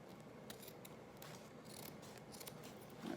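Scissors snip through ribbon on a Christmas wreath, several quiet, crisp cuts in close succession at low volume.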